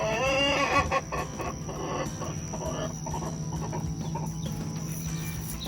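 An adolescent rooster lets out an odd, unfamiliar call near hens, a run of warbling, clucking tones that starts loud and close, then trails into softer, broken clucks over faint background noise.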